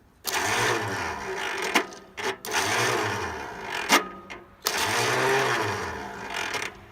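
A small Kohler or Onan garden tractor engine, fed carb cleaner, fires up and runs roughly in three loud, close bursts, sputtering and dying between each attempt.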